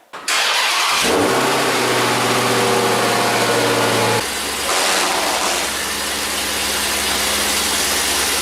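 A Dodge Hellcat engine cranks and fires with a loud roar, then settles into a deep, heavy idle that shifts down slightly as the car is moved, close and loud with no talking.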